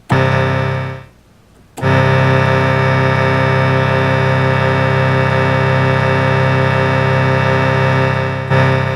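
A sustained, buzzy Korg 770 vintage synthesizer tone with long decay holds steadily for several seconds after a brief gap, loud and unwavering before cutting off.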